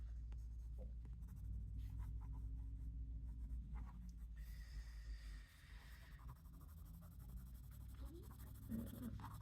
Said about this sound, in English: You can draw some little marks like this.